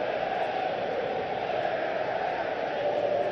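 Football stadium crowd noise in the soccer game PES 2021 during a Manchester United vs Chelsea match, a steady roaring wash of massed voices that holds at an even level throughout.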